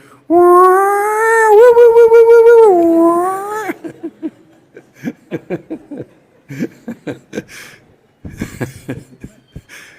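A human voice imitates a peacock call with a long, loud, wavering wail, followed by scattered laughter and chuckling nearby.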